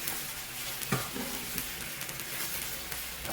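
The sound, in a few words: sauce boiling in a pan for sweet and sour pork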